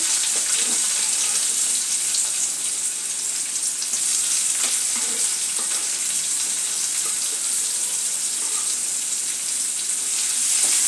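Ginger, garlic and finely chopped onion sautéing in a pan for an eggplant-potato dish, a loud continuous hiss of frying that holds steady and close, with faint stirring scrapes beneath.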